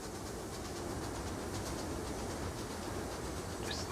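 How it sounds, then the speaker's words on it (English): A train pulls into a station in the video game Transport Fever 2, giving a steady, moderately quiet rolling rumble and rail noise throughout, with no speech. "Just let the train pull into the station."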